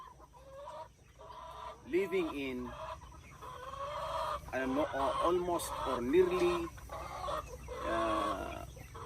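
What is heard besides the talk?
free-range chickens clucking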